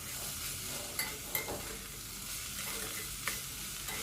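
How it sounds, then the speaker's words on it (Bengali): Potato, cauliflower and carrot stir-fried with spices in a pan for a vegetable paneer dish, a quiet, steady sizzle with a few light spatula clicks and scrapes. "এবার সমস্ত সবজি আমি মশলার সাথে ভালো করে কিছুক্ষণ আবারও কষিয়ে নেব।"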